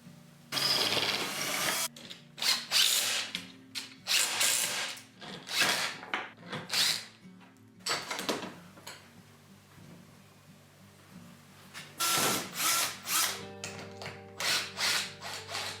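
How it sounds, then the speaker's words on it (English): A power drill drives screws into a 2x4 in several loud, close bursts of whirring and grinding, separated by short pauses. "I'm just going to screw this down to a 2x4."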